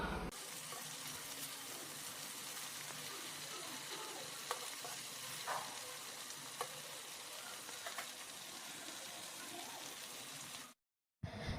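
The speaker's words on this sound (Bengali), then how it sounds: "মিডিয়াম না একদম লো হিটে এটাকে ভাজতে হবে, যাতে ভিতরটা খুব ভালোভাবে সেদ্ধ হয়ে যায়।" Prawn chops frying in oil over low heat, a steady close sizzle with a few light clinks, cutting off abruptly near the end.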